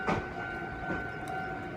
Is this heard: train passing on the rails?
yes